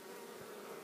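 Bees buzzing as they feed, a steady, continuous drone heard up close with no pauses and no voices.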